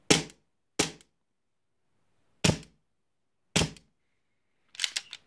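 A WE Beretta M84 Inox airsoft gas pistol fires four sharp, loud, isolated shots with uneven gaps between them, then a short cluster of quicker clicks and snaps at the end.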